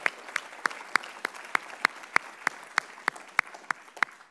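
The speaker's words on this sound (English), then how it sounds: "So how about a round of applause for them?" Sparse applause at a Bellarmine College of Liberal Arts event, with evenly spaced single claps ringing out one after another over a soft crowd background, as if only a few audience members keep the rhythm.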